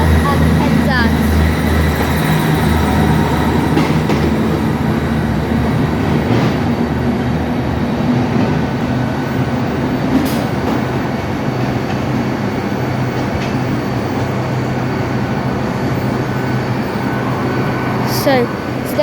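Trains at Plymouth station rumble and hum steadily at close range, a constant low engine drone with occasional squeals and clanks over nearly twenty seconds, mixed with faint background voices.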